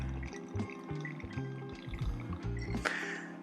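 Lot 40 rye whiskey being poured into a cocktail makes a close, quiet glugging trickle with small drips, heard alone without talk.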